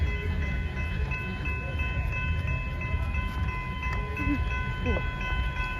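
A passenger train rumbles steadily through the level crossing on Main Hurstbridge Road in Diamond Creek, Victoria. The sustained loud roar mixes with wind buffeting the microphone.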